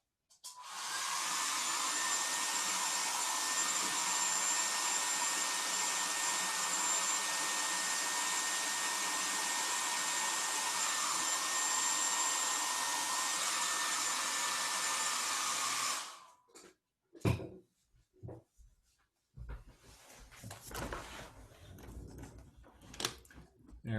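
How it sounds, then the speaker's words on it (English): A small hair dryer blows steadily and loudly for about sixteen seconds, drying paint on a drawing of bats, then cuts off, leaving a few soft handling sounds. "in just a moment, you'll hear a little hair dryer going."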